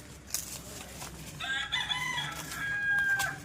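Free-range backyard chickens cluck while a rooster crows partway through, a drawn-out crow rising over the clucking at moderate distance with a quiet outdoor background.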